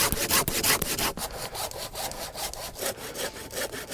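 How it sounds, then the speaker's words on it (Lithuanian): Firewood is sawn by hand at a woodland home, with steady rhythmic back-and-forth saw strokes, close and clear and with no voices. "Einu, malkų pjaut."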